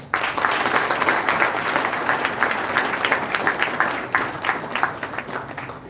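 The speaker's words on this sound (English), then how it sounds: "I think it is a big applause" Sustained applause from a large conference crowd after an address, dense clapping throughout at steady loudness.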